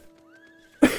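A single short, harsh burst near the end, loud and close, following a quiet stretch with faint steady game music tones.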